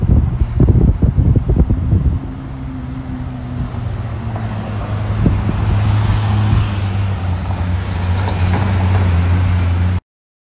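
A car roars as it approaches, starting with rattling clatter and then settling into a steady, droning engine hum that swells slightly louder near the end, with wind noise throughout.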